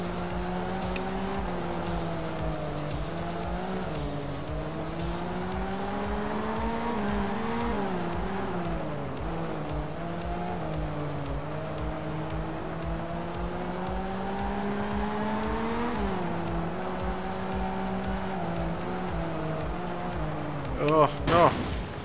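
A low-powered rally car in the video game Art of Rally drones steadily, its engine note rising and falling through gear changes and corners, with a brief tire squeal near the end; someone talks over it.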